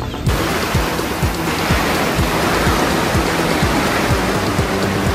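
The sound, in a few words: wind and rain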